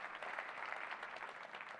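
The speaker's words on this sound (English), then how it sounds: "they're clapping for her" A keynote audience at Computex applauds AMD CEO Lisa Su, heard as a faint, distant wash of steady clapping throughout.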